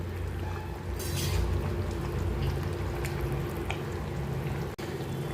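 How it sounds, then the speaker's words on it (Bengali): Fish curry broth simmers in a pan, a continuous bubbling and seething hiss at moderate level with a brief splashy flare near the start, heard alone with no talk. "ঝোলটা খুব ভালোভাবে ফুটে আসছে।"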